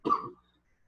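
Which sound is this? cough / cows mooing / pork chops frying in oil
cough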